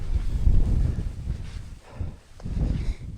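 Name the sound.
strong wind at a snowy winter campsite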